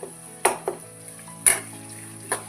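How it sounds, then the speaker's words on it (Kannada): Crushed ginger and garlic fry in a little oil for a village-style North Karnataka jowar roti oggarane. A soft sizzle runs throughout, broken by a few sharp clanks of a spoon against the pan. "ಈಗ ಶುಂಠಿ ಬೆಳ್ಳುಳ್ಳಿನ ಜಜ್ಜಿಟ್ಕೊಂಡಿದ್ದೆ ಅದನ್ನು ಹಾಕ್ಕೊಂತ ನೋಡಿರಿ ಚೆಂದಾಗ ಸ್ವಲ್ಪ ಎಣ್ಣೆಯಾಗ"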